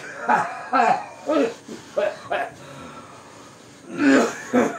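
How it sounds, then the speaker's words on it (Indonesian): A man clearing his throat and coughing in short, harsh bursts while rambling, several separate hacks with brief pauses between them, close and loud. "Ia bernyanyi melantur sambil batuk-batuk."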